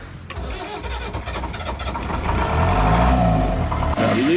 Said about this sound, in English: This is when you realise the engine is frozen solid.